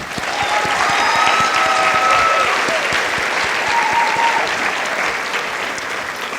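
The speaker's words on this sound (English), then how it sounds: "Let's give them one more round of applause." Audience at a Distinguished Young Women scholarship program applauding a performing group: dense, loud, sustained clapping from a crowd, with a few faint whoops over the top.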